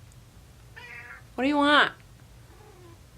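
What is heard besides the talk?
cat meowing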